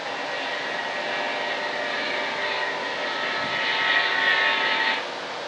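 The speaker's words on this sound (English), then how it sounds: "Just a dot going across the sky, but you can hear that big old motor." A steady broadband engine drone comes from a distant airplane coming in to land, swelling slightly near the end with no voices.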